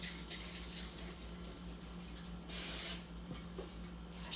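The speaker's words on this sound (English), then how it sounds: "Put your pan there and I'm gonna spray it with our pan." Cooking spray misted onto a pan held over a sink while making pineapple upside-down cheesecake, a single loud half-second hiss against a quiet kitchen background hum.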